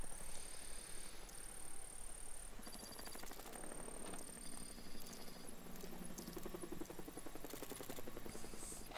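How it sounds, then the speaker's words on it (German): A helicopter approaching in Batman: Arkham Knight, a steady rotor chop and buzz held under the game's ambient layers, with a few high electronic tones on top throughout. "Ein Helikopter nähert sich."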